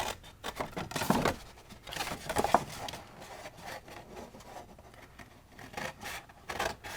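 Scissors or a blade rub and snip through cardstock while a card box is being cut and scored, with a few louder strokes early on between quieter scraping, close and fairly faint.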